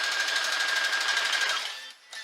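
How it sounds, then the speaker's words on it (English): A sewing machine stitches quilt fabric pieces together in a steady, fast continuous whir for nearly two seconds, then stops abruptly, with a brief faint sound after. "So we're just going to go through and sew our pieces."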